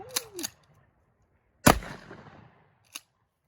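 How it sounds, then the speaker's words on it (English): A 12 gauge shotgun fires a 1 ounce slug at a refrigerator: one loud, sharp boom with a decaying rumble, preceded by brief faint clicks and followed by a short metallic click. "The first shot is going to be a Slug, a 1 ounce Slug."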